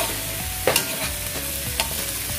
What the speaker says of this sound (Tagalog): habang ginigisa natin yung carrots natin